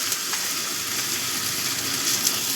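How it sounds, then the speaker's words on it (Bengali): A ginger-garlic paste sautéing in a pan for crab curry gives a steady close hiss of frying oil throughout, with faint stirring scrapes and no talk. "ভালো করে মিশিয়ে দিয়ে কষিয়ে নেব, যাতে আদা আর রসুনের কাঁচা গন্ধটা চলে যায়।"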